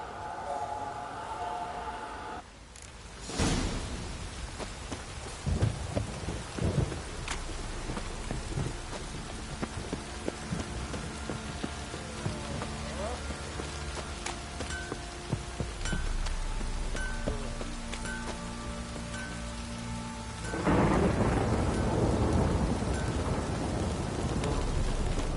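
Steady rain pours throughout in The Witcher 3 video game, with rolling thunder bursts early on and a louder rumble near the end; no voices.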